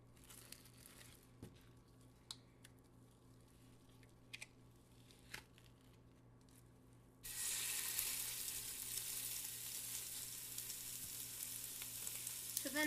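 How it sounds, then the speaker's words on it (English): Sausage browning in a little olive oil in a pan: quiet clicks and handling for several seconds, then a sudden loud, steady broadband sizzle as the meat hits the hot oil, continuing strongly to the end. "I do have a little olive oil in my pan, so I'm going to undo it, throw it in there, and start to brown it"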